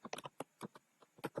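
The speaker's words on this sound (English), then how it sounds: "So you can now type it here." Quick bursts of typing on a computer keyboard, a dozen or so close, crisp key clicks in an uneven rhythm, heard alone in a quiet room.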